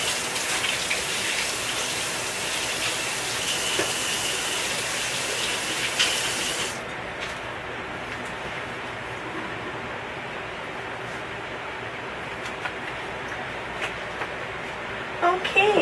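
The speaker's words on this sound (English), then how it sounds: "I'm going to wash my hands." Running water from a kitchen tap splashing steadily while hands are washed during baking, a broad hiss that stops abruptly partway through, leaving quiet room tone with faint clinks.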